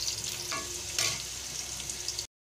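Sliced onions for birista fry in oil with a continuous soft sizzle, broken by a couple of brief stirring scrapes near the start and middle, close and fairly quiet, before cutting to silence.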